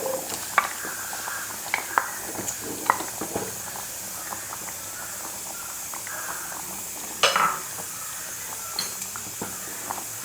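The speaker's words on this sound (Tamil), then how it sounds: "இப்போ நம்ம இறால் சேர்க்குறோம் அதில்." Prawns cooking in a simmering brinjal and potato curry in a pot, with gentle bubbling and soft sizzle under scattered clinks and taps of a spoon against the pan.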